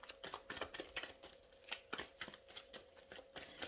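Tarot cards shuffled by hand close up, a quiet run of quick riffling flicks and soft slaps in an uneven rhythm, with no talking.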